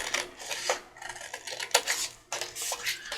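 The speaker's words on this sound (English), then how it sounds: "So I'm just going to cut it by hand." Scissors cut paper by hand for a paper bag journal, giving close, dry rasping snips in quick uneven strokes with short pauses between cuts, no voices.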